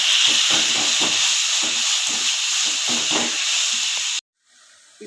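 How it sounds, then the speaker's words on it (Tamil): Ginger garlic paste sautés with onions in a pan for a chicken dish, producing a loud continuous close sizzle with rhythmic stirring pulses, then cutting off abruptly to near quiet. "இஞ்சி பூண்டு பேஸ்ட்டு சேர்த்திடுறேன் தீக்கிட்டு இஞ்சி பூண்டு பச்சை வாசம் போகிற வரைக்கும் நம்ம வந்து வதக்கிக்கலாம்"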